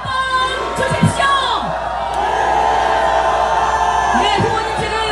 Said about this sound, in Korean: 여러분, 보다 큰 박수와 함성 다시 한번 주십시오